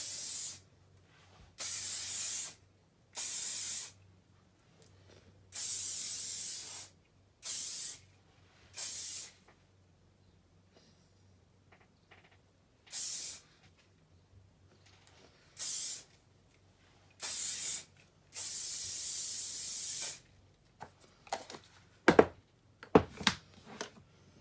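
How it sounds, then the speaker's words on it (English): Velvifix hairspray hisses onto curled hair in a series of close, loud bursts of a second or two each, separated by quiet gaps, ending with a few sharp clicks and taps. "I'm just going to go in with some hairspray, and I'm using the Velvifix hairspray"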